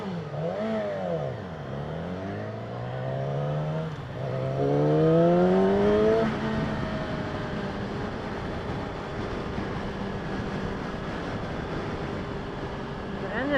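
A 2016 Yamaha R6 sport bike revs hard as its rider works up through the gears. The engine note climbs and shifts in rising sweeps, then settles into a loud, steady high-speed drone mixed with wind rush.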